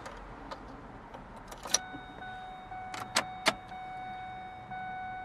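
Keys of a 2005 Ford Ranger STX pickup with a 5-speed manual and 213,000 miles jingle in a few sharp, close metallic clinks over a quiet steady hum inside the truck.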